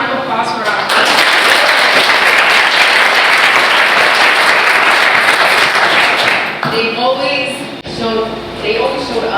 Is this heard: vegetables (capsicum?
no